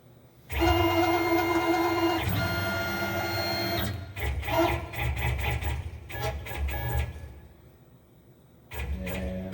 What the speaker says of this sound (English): we're going to jog our turret back into position